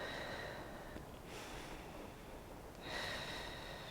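Slow deep breathing during a gentle movement session: a long breathy exhale fades, a quieter pause follows, and then another airy inhale rises, soft and near against a steady hiss.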